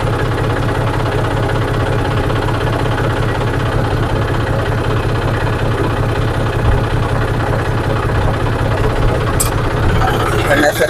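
A John Deere 5038D tractor, old bonnet model, idles with its hydraulic pump running and no throttle applied, giving a steady, loud, low diesel rumble with constant vibration throughout and a voice talking over it.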